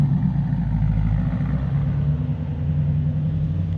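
A TVR sports car engine runs nearby with a deep, steady throaty rumble and low burble, holding constant throughout without revving.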